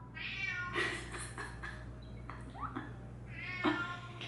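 Several loud Bengal cat meows in a row, drawn-out and insistent, close by, with a steady low hum underneath.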